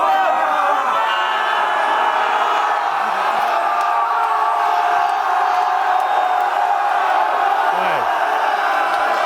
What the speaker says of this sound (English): there's little glimpses when people start screaming